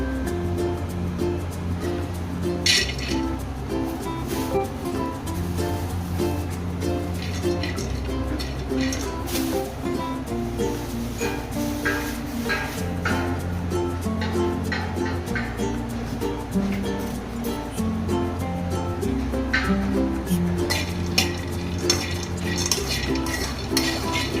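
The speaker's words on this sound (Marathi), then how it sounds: "मी शेंगदाणे भाजून घेते आणि मग कूट करते" Peanuts dry-roasting in a pan, stirred continuously with a metal spoon, giving a rattling, scraping clatter with repeated clinks against the pan, steady and close throughout.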